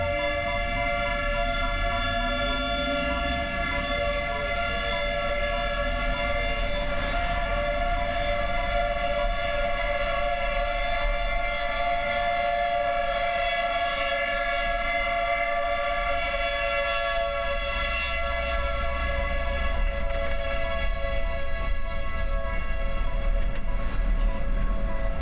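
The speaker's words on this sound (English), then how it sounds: "That siren is so loud." A loud civil defense siren wails steadily through a storm in Oklahoma supercell country, its sustained harmonic tone holding near and constant for the whole span with a low rumble of wind and weather beneath.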